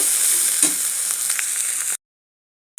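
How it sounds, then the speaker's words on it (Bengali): Turmeric, chili and cumin powders are stirred in a hot frying pan for chicken curry, giving a steady close sizzle with scraping stir strokes before the sound cuts to silence. "এবার আমি একটু এটা ভালো করে নাড়াচাড়া করে নেব"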